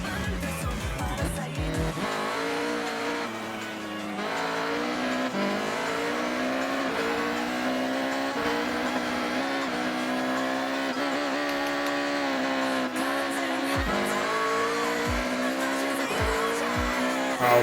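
A race car in the video game Forza Horizon drives laps, its engine holding a loud, steady high drone that climbs and drops with gear shifts, with brief tire squeals near the end.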